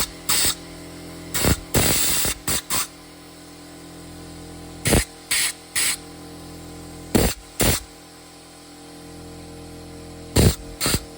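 Short blasts of compressed air clean gunk out of a 340 Swinger carburetor on a 1966 Dodge Coronet station wagon. The bursts are loud, hissing and irregular, some paired, separated by a low steady hum.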